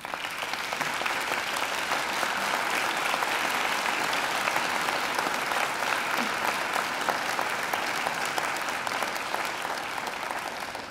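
Steady, dense audience applause fills a graduation ceremony hall, sustained and even for the whole stretch with no voices rising above it.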